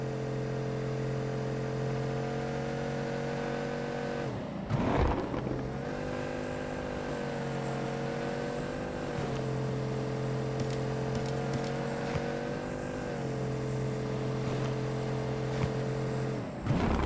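Sustained engine drone of a car in PUBG Mobile with steady pitch, briefly dipping and revving around a shift, continuing at even loudness.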